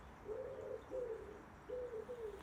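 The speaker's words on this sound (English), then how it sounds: "Yeah, there's been lots of bird chatter. We've got pigeon soup in Pebble Pond, so that's nice for Bowdy." Pigeons coo near a pond in three soft, rolling low calls, fairly close and alone against a quiet outdoor background.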